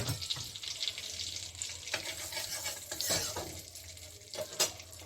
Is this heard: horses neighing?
no